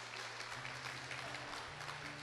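Audience applause at a religious talk, a quiet, diffuse wash of clapping over a low steady hum, continuous throughout with no voices standing out.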